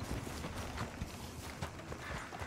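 Horse hooves in Red Dead Redemption 2, a quick, rhythmic clip-clop of a ridden horse on the move, steady and moderately close under a faint ambient background.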